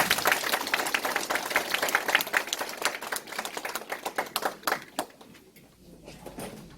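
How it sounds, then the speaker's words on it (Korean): Members at a redevelopment union's extraordinary general meeting clap to welcome the meeting chairperson, a dense burst of applause that thins into scattered claps and then fades out. "큰 박수로 맞이해 주시기 바랍니다"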